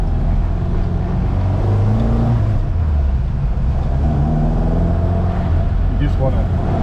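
Ford Mk1 Escort rally car fitted with a Toyota gearbox, its engine droning and revving steadily from inside the cabin with gear-change shifts in pitch, loud and continuous beneath speaking voices.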